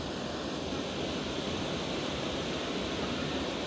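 Water pours steadily over a weir on the River Ancholme, a dense, continuous rushing roar close by with no breaks or talk.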